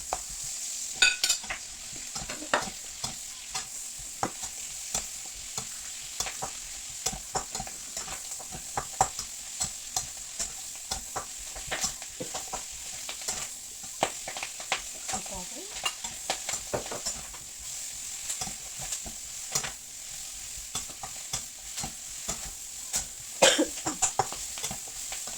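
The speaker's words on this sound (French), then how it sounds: "on peut ajouter les légumes" Vegetables stir-fried with onion and garlic in a well-worn wok for beef and shrimp noodles: a steady close sizzle broken by frequent scraping and stirring knocks, with a cough heard near the start.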